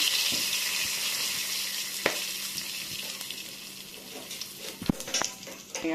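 Panch phoron spices crackle and sizzle in hot oil in a pan, a close steady fry with scattered stirring clicks and a couple of sharper knocks, with no talk.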